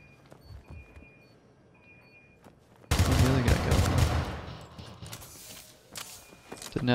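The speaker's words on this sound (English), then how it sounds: "these guys are just shooting me now" Enemies firing guns at the player in the Syndicate shooter game: quiet footsteps and scattered shots give way to a sudden loud burst of rapid automatic gunfire that keeps rattling for several seconds.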